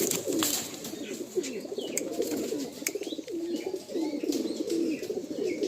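A pair of Teddy pigeons coo repeatedly in soft, rolling bursts, close by, with faint chirps of other birds in the background and no talking.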